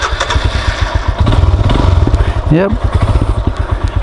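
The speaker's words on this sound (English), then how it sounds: "Familiar Royal Enfield thump." A carburetted Royal Enfield Himalayan motorcycle engine fires up and settles into a loud, steady single-cylinder thumping idle close by, with a person speaking briefly over it.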